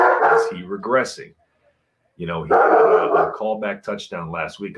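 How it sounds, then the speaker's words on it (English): A dog barks in the background of a home sports podcast recording, several sharp barks mixed under someone talking loudly and continuously, partly masked by the voice. "Apologies for the dog in the background."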